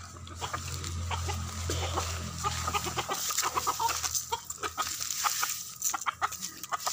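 Chickens cluck and peck busily while being fed, a dense, close chorus of short clucks and scratchy pecking sounds, with a low rumble at the start.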